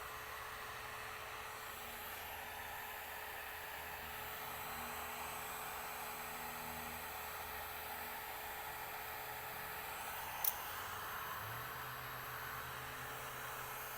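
A heat gun blows hot air across a vinyl decal for a mini skid steer, a faint, steady whooshing hum running without a break, with one brief sharp tick partway through and no speech.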